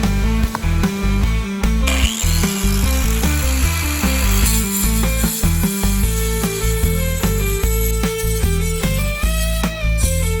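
A power saw grinds steadily through rock to free trilobite fossils during bulk fossil preparation, a loud, continuous whine with a droning, harmonic tone and brief dips in pitch and pressure as the blade bites.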